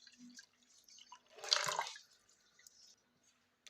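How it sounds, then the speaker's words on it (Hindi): Water poured into a kadhi pakora mixture in a pot, giving a soft splashing pour that swells briefly in the middle, with faint drips before and after and no talking. "अब इसमें थोड़ा सा पानी हमने और डाल दिया है।"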